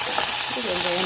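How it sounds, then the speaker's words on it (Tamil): Onions fry in a pan with curry leaves, giving a brief close sizzle under a constant hiss. A faint tonal trace of a voice sits in the background. "இப்போ வெங்காயம் நல்லா வதங்கிட்டு இப்போ இதில் கருவேப்பிலை சேர்த்துக்கலாம்."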